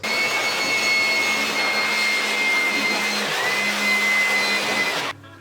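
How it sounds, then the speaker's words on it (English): An electric blower clears dust from a PC cabinet with a loud, steady whine and rushing airflow that runs continuously for about five seconds, then cuts off abruptly. "let's use the blower once again, so as any dust which has accumulated again will be cleaned"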